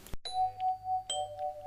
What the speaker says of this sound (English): That's the doorbell, and she was right on time.